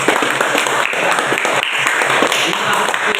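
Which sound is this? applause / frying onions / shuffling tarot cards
applause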